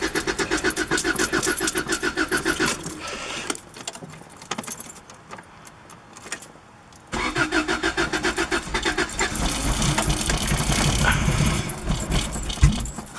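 A broken-down 1998 Acura Integra with a B18B1 engine and five-speed manual cranks repeatedly, rhythmic loud starter churning in two bursts separated by a quieter pause with keys jangling.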